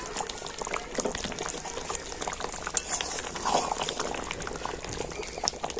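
Chicken bubbling in a covered pot for birthday biryani as the lid is lifted; close, busy boiling and bubbling with irregular pops and liquid burbles throughout.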